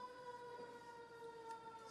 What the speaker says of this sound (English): I might actually try to wait for the sirens to stop